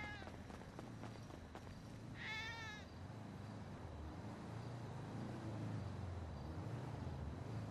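A rescued kitten from a fire scene meows in a short rising cluster of high, wavering cries near the start, against a steady background rumble and faint activity.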